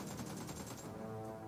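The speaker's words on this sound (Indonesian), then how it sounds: "Tembakan yang lepaskan secara rambang oleh Bravo" Rapid automatic gunfire from a PUBG Mobile esports match, including an AKM, heard as a dense burst of shots that fades into quieter game ambience.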